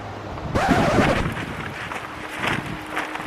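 Strong wind gusts through trees around someone working on a Baja Warrior 200cc mini bike, a broad roaring rush that swells suddenly and keeps blowing loud and steady with buffeting against the microphone.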